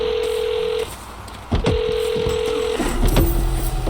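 A phone number is dialed in the video game Saints Row, giving a few quick keypad tones and then steady, clean tones that sound like a dial tone or ringback. Game background noise runs beneath them.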